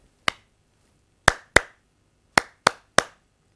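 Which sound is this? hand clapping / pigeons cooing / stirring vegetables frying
hand clapping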